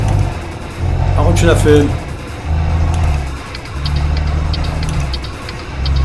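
A heavy truck engine in Euro Truck Simulator 2 drones low and rumbles in several pulses as the throttle opens and eases. It plays under someone speaking German.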